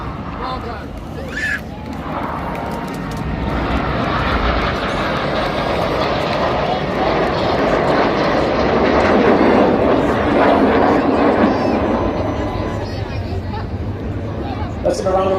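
Red Arrows jet aircraft perform an air show display at Clacton-on-Sea, Essex, producing a broad, sustained roar that swells and fades as the jets pass, with an announcer talking over it and crowd noise.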